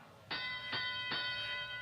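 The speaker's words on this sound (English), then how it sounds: "That bell means it's tele-up time for power play." Three loud electronic bell tones ring in quick succession at an FTC Power Play robotics state championship, marking the start of the driver-controlled teleop period over a hall's background hum.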